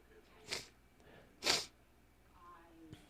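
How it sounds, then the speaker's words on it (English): Two sharp, close sniffs or snorts come about a second apart, followed by a fainter third one, from a person with a runny nose. Things are otherwise quiet between them. "I'm sorry for the sniffles, guys."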